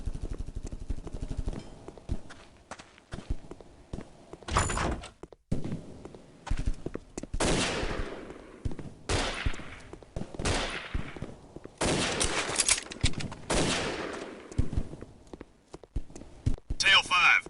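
Bursts of gunfire crack out in the Counter-Strike: Condition Zero Deleted Scenes mission "Recoil": a series of sharp, loud shots and short volleys in irregular clusters, with footsteps and voices talking between them.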